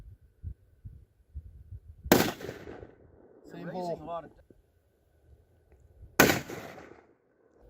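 Two rifle shots ring out at an outdoor range while sighting in before an elk hunt: each report is a loud, sharp crack with a short tail, separated by about four seconds, with people talking in between.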